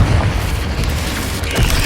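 A fiery Confringo spell blast from the video game Hogwarts Legacy lands as a loud, dull boom with a rumbling tail, and a second burst swells near the end.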